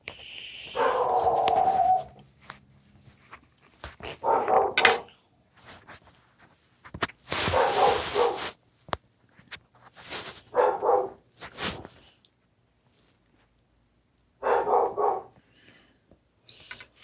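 A dog barks in several separate bursts spread across the stretch, fairly clear and moderately close, with quiet gaps between each volley and no talking over it.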